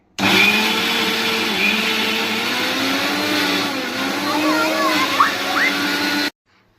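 A mixer grinder whirs loudly as it blends ingredients with water for a fasting kokum saar and bhagar meal. The motor starts abruptly, runs at a steady roar with slight pitch wobbles for about six seconds, then cuts off.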